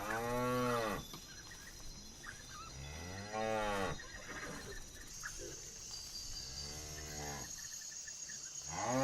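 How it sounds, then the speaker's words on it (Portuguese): A herd of African buffalo gives deep, drawn-out moaning grunts and lowing calls, several of them overlapping at moderate distance, over a constant background hiss of insects. No voices are heard. "Em meio à poeira rodopiante e aos grunhidos da manada"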